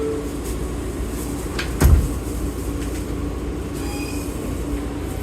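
A New York City subway G train car runs with a steady rumbling roar, a sharp clunk near the middle and faint wheel squeals toward the end.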